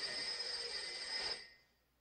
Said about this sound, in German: Das Telefon läutet